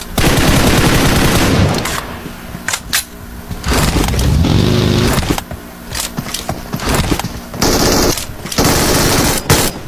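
Heavy automatic gunfire in a shooter game, loud and close, rattles in repeated long bursts across the whole stretch, broken by brief pauses and mixed with other game effects.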